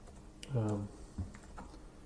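Soft keystrokes tapped on a computer keyboard, a few faint, scattered clicks with a brief voice-like sound near the start.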